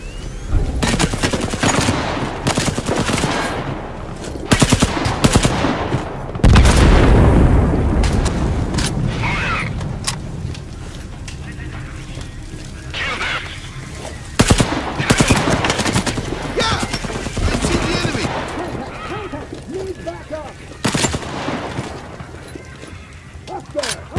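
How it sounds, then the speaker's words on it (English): Explosions and gunfire in the video game Sniper Ghost Warrior 3: a heavy booming blast followed by scattered bursts of shots and cracks over about twenty seconds, loud and close, with voices speaking at times. "Explosion on the perimeter!"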